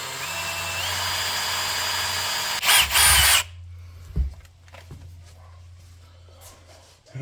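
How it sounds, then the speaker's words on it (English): A power drill whines steadily while boring a small pilot hole for a valve stem on a Minneapolis tractor, rising briefly to a louder grinding burst before stopping. Afterward come a few faint clanks and handling noises. "I'm going to start by just drilling out a small pilot hole, then we'll swap it over to a step drill bit"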